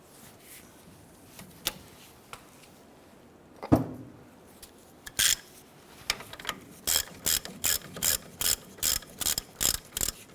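A ratchet loosening a brake caliper bracket bolt on a 1993-1997 Ford Ranger, close and loud, beginning with a few scattered clicks and clanks and then settling into a fast, regular run of ratcheting bursts; no speech.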